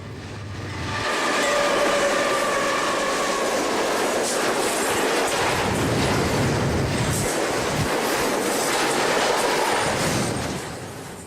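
A Conrail westbound freight train loaded with steel coil rolls past at Oak Harbor, a loud, sustained rumble of wheels with rhythmic clickety-clack over rail joints and occasional squeals, fading in and out at the ends.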